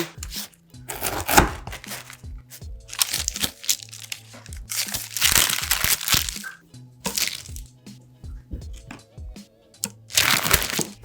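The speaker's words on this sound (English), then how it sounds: "when the Rice Krispie is really thick, it's kind of hard to cut through, but this one's really easy to cut through" A knife cuts through crisp Rice Krispie cereal squares, giving close crackling and crunching bursts in irregular strokes separated by short quiet gaps.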